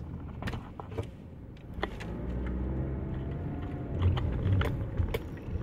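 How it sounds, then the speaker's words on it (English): Light traffic drives past outside, with a low, continuous road rumble swelling and fading as a few cars go by, along with scattered clicks and knocks nearby. "a few little cars."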